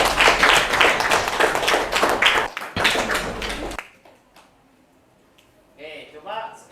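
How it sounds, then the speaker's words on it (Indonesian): A classroom gives a burst of dense clapping that lasts a few seconds, then cuts off abruptly. Quieter murmuring voices follow. "Tepuk tangan untuk dia, Randri."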